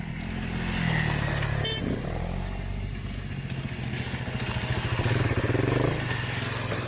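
An enduro motorcycle engine runs nearby, its throttle rising and falling in uneven bursts with a rattling, pulsing drone on a trail descent, no voices over it.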